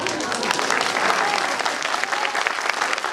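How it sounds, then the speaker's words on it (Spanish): A crowd applauds at a book presentation, a dense, continuous patter of clapping at moderate distance with a few voices mixed in. "por razón le aplauden tanto"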